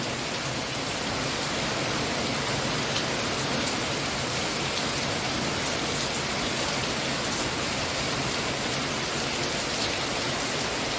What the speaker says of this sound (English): The rain is tearing.